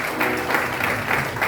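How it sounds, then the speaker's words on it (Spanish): Church congregation claps during a Sunday service, a short burst of crowd applause with rhythmic pulses, moderately loud and somewhat muffled, with faint voices under it. "Démosle otro aplauso grande al que vive para siempre"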